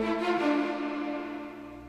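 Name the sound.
high string embellishment cue hit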